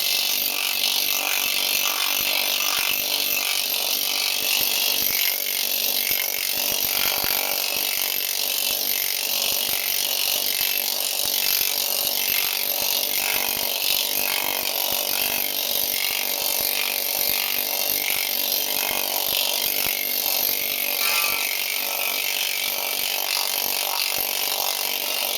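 A planishing machine stretches and shapes sheet metal with a continuous, loud, dense hammering buzz that holds steady throughout.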